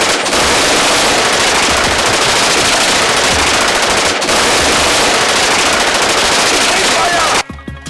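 Sustained rapid automatic gunfire in a movie battle scene, loud and continuous bursts filling the whole clip, ending abruptly near the close.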